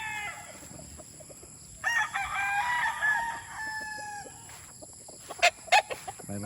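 A gamefowl rooster, a Sweater crossed with a Boston Roundhead, crows once at moderate distance in a farm ranging area. Softer clucks and brief bird calls follow over a steady background hum.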